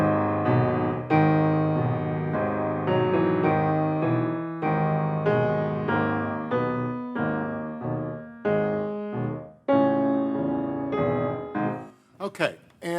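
Solo piano playing a slow, plodding passage evoking an oxcart lightly loaded with rocks, heavy repeated chords stepping along in a steady rhythm, ending with a brief scrape of handling noise.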